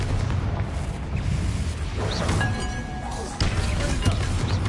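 A Confringo fire spell goes off in Hogwarts Legacy on PS5, a booming blast with crackling debris over a dense game soundscape, a second sharp impact following shortly after.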